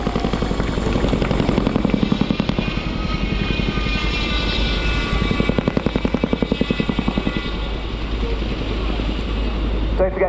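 A twin-rotor Chinook helicopter departs backwards at the RIAT air show, its rotors beating in a steady rapid thump over a loud engine whine, continuous and fairly close.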